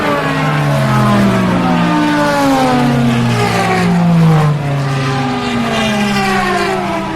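An Aston Martin V12 race car engine sings loudly as it passes close by, a sustained high-revving wail with harmonics that rise and then fall away as it goes past.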